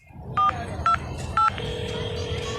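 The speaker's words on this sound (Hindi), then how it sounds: "मैंने एक नंबर मिलाया" A phone number being dialed: three short, clear keypad beeps in quick succession, followed by a steady tone over faint background noise.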